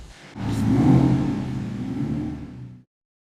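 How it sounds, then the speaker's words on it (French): A Ferrari pulling up nearby, its engine swelling in a loud revving rumble that holds for a couple of seconds before cutting off abruptly. "C'est la Ferrari qui arrive."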